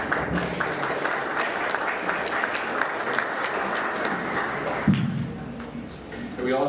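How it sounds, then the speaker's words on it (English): An audience at a congressional candidate debate applauds for the moderator with sustained, even clapping. A thump and a short pause follow, then voices continue. "everybody give us applause here"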